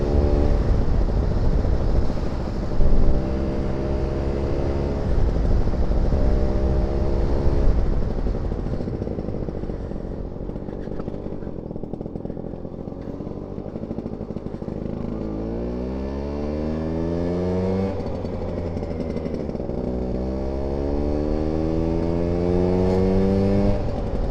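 A Vespa smallframe rat-bike scooter engine on a riding test, buzzing loudly up close as it revs and climbs through the gears, with its pitch repeatedly rising and then dropping at each shift, and wind rushing past.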